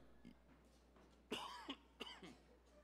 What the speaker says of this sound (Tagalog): Akong inuubo eh.